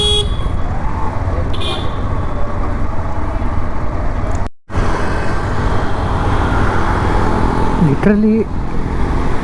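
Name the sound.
night road traffic with honking in Hitech City, Hyderabad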